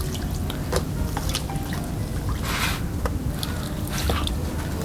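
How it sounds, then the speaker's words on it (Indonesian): Water is poured over potted chili plants after fertilizing, giving a close, continuous splashing and trickling with scattered drips and soft squelches of wet soil. "Setelah kita berikan pupuk, selalu kita siram ya,"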